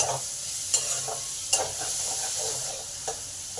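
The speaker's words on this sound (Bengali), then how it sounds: "পেঁয়াজটাকে ভালো করে ভেজে নেব" Chopped onion sizzles steadily in a hot pan with a little black cumin, broken by several soft scraping stirs of a spatula, close and fairly quiet with no voices.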